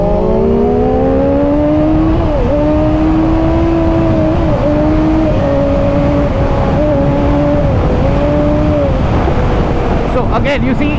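Inline-four and inline-triple motorcycles accelerate away through the gears, a loud close engine whine rising and dropping with each shift over steady wind roar, a few brief clicks near the end.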